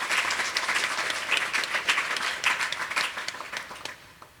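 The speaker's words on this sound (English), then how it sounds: "So please give a round of applause to Nikolai." An audience at a panel on homelessness gives a lively round of applause, dense hand claps at steady loudness that slowly thin and taper off over a few seconds.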